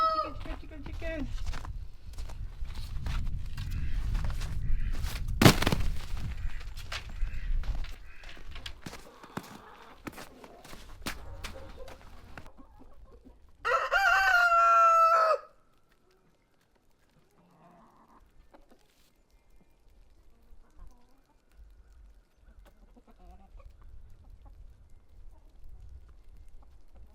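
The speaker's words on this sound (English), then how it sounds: "We love chicken. They are so amazing" Farm chickens clucking near a garden plot amid rustling and handling noise, with one loud, sustained crow-like call partway through, followed by quieter calls in a near-silent stretch.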